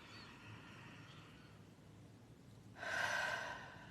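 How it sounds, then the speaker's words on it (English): One person takes a slow, deep breath in and then exhales audibly, a soft breathy rush that swells near the end; quiet and close, with no talking. "Nice deep breath. Bringing that all in and exhale."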